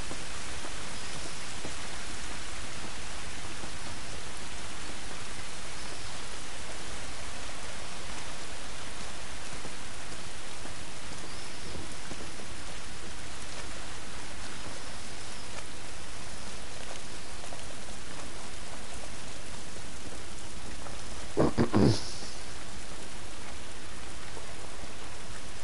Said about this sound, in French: Cette pluie ne va pas nous aider.